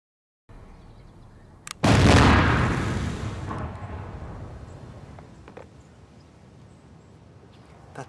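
Stamped explosive blocks detonated near a steel plate: one loud, close blast erupts suddenly, then a long rumbling decay slowly fades under a low background, with a faint pop just before the blast.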